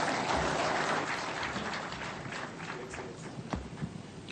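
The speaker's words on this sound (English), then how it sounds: "Another round of applause for His Excellency." Sustained applause from an audience honouring His Excellency at an e-citizen one-year anniversary event, a dense, even patter of many hands that fades slightly toward the end.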